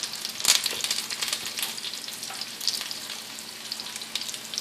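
Chicken pieces frying in hot oil, a busy continuous sizzle with sharp spitting pops and crackles, loud and close, occasionally shifted around with tongs, no talking.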